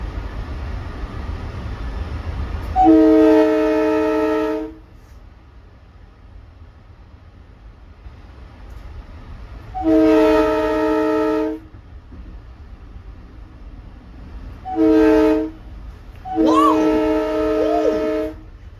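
An LIRR train sounds its multi-tone horn in four loud blasts, two long and two short, over a low rumble of passing rail cars, with voices talking in between.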